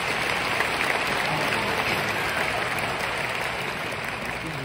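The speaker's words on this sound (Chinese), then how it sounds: "我们在这里先给我们老大一个掌声" An audience at a training seminar applauds, a dense, steady wash of clapping hands that holds evenly throughout and fades slightly at the end.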